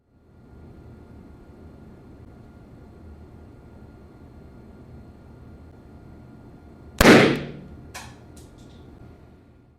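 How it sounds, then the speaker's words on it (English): An electrolytic capacitor fed a rising overvoltage from a power supply bursts with one sudden, loud bang, followed by a smaller crackling pop, after a long stretch of steady faint hiss. "And all we're going to do now is wait for the capacitor to explode."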